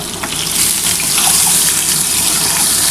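Egg frying lightly in a pan for a spicy Bengali egg curry gives a steady, close, broadband sizzle that stays even through the short stretch, with no talking.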